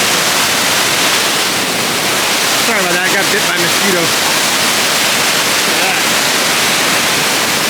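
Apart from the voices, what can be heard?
waterfall, water running down rock steps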